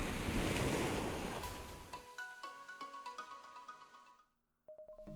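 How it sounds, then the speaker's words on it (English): A loud ocean wave crashes in with a broad rushing roar, then drops away to quieter ringing tones and brief silence. "I suddenly hear a roar of water behind us."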